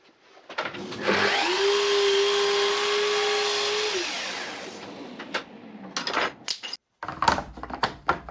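A power saw whines up and cuts through a 6mm scrap board for a jig, a steady high tone for a few seconds that winds down, then wooden knocks and handling clatter.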